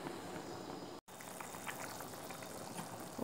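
Ground meat sauce for lasagna bubbling gently in a covered pan, a soft, steady simmering hiss with faint bursting bubbles, briefly cut by a short gap.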